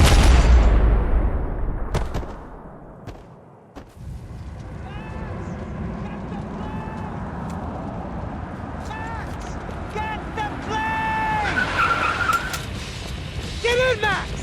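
Car driving hard through a gunfight in the Max Payne 3 video game, with engine roar, skidding tyres and gunshots blending into a loud, continuous mix; voices shout over the action.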